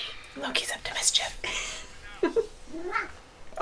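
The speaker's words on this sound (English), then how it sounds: "Oh, I love it. Happy meows." A house cat meows softly several times, close and gentle, with rising and falling calls over whispery background noise.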